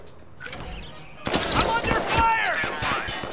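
Bursts of gunfire in the video game Watch Dogs 2, a quiet lead-in and then a rapid cluster of sharp, loud shots with ringing tails, mixed with close game effects.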